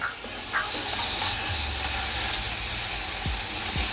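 Ginger garlic paste sizzles and hisses in a hot pan while cooking paneer butter masala, a steady frying hiss with a few soft clinks and scrapes from stirring.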